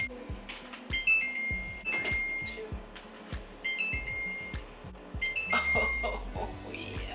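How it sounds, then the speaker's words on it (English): A kitchen timer goes off while a low-carb baked feta pasta is baking, giving rapid repeated electronic ringing beeps in bursts over steady clatter and background noise. "Timer's going. It's ready to come out."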